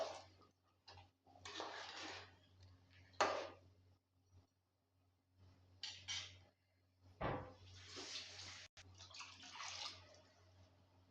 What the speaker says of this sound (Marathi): पाणी टाकून घेते.